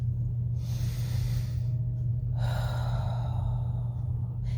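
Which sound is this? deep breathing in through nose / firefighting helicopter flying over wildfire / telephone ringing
deep breathing in through nose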